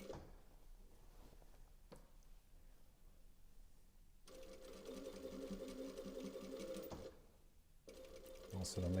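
A sewing machine stitches binding onto a T-shirt neck opening, its motor whirring in steady runs that stop and restart, with quiet handling of fabric between bursts and a voice talking underneath.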